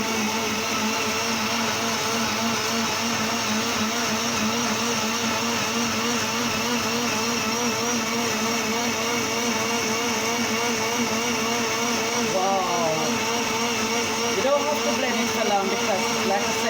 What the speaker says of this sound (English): I'm going to switch my blender on from the main, and I'm going to switch it on now.